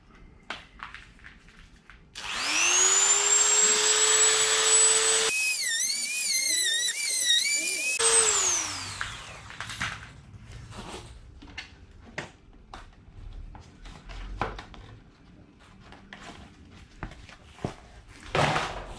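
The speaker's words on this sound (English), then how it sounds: "So I'm just going to hack that bit off there, just Dremel through it or something" A handheld Dremel rotary tool cuts through a plastic mudguard piece on a Royal Enfield Interceptor 650 motorcycle, with a loud steady high whine that bogs down and rises again as it bites, then scattered knocks and handling sounds.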